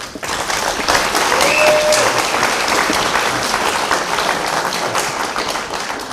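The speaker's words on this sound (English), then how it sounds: "the graduates deserve a round of applause for their efforts." Sustained, dense applause from a large crowd at a graduation ceremony fills the room evenly, steady and loud throughout.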